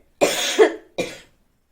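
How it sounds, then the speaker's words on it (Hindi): A person with a winter cold gives two close, loud coughs, a harsh rough one followed after a short pause by a shorter second hack, with silence around them. "सॉरी फ्रेंड्स, थोड़ा सा खांसी हो रही है, सर्दी का मौसम है"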